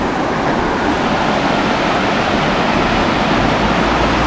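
A mountain stream near Ålgård and Sandnes, Norway rushes steadily, a loud, unbroken broadband roar of flowing water with no pauses.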